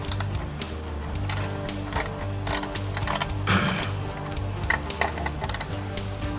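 Ratchet clicking steadily while unscrewing the seat bolts on a 2013 Suzuki TU250X motorcycle, close and fairly loud, with a few metallic clinks layered over a continuous mechanical background.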